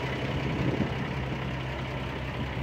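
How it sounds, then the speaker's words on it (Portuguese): A truck's diesel engine idles at a steady low rumble, a continuous near drone with no voices over it. "Deixa eu desligar aqui o caminhão."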